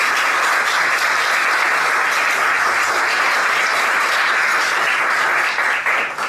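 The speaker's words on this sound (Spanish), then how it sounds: "a quien le damos la bienvenida con un aplauso" A large audience gives a welcoming round of applause for Minister Margarita Luna Ramos at a lecture event. Loud, sustained clapping from many hands holds steady throughout and dips only slightly at the very end.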